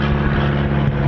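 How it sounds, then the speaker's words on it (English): Eurofighter Typhoon FGR4 jets taxiing at an RAF airfield, a loud, steady engine whine and rumble held without a break throughout. "Okay, so we've got a Typhoon taxiing now."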